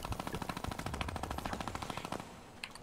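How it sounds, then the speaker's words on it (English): A Fortnite minigun fires in a fast, continuous stream of shots for over two seconds, then cuts off into a few scattered clicks, fairly quiet overall. "I got him with a minigun"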